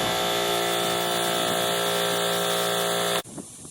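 An air-powered tool run from an air compressor works on the CVT compartment of a 2005 Yamaha Majesty scooter, a loud, steady high-pitched whir holding for about three seconds before it cuts off abruptly into quiet.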